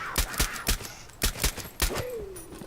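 Pistol fire in Far Cry 4: about seven sharp, evenly spaced gunshots crack in quick succession, then a falling tonal whine trails off as the shooting stops.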